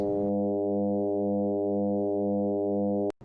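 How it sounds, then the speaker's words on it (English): A detuned FM synth tone patched in Pure Data: a steady, rich harmonic drone with a slow, regular beating pulse, playing alone for about three seconds before cutting off abruptly. "And if you detune the modulator a little bit, you get some beating that sounds like this."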